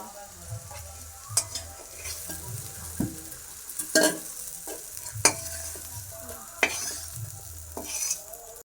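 Fritters of shiuli (night jasmine) leaves frying in a pan with a steady sizzle, broken by several sharp scraping and stirring clatters of a utensil against the pan.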